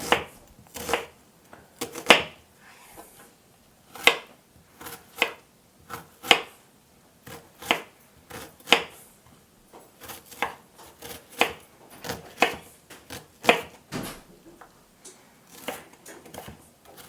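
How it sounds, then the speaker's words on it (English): A knife minces half an onion very fine on a cutting board, sharp close chopping taps in uneven bursts, sometimes quick doubles, repeating steadily with brief pauses and no voices. "I'm going to mince up this onion"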